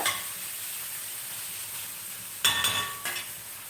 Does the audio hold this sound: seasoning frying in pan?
yes